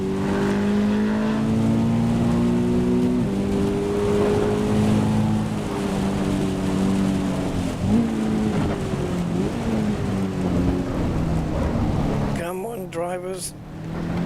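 In Assetto Corsa Evo a damaged race car's engine revs up and down through gear changes, fairly loud and steady, with a voice talking over it.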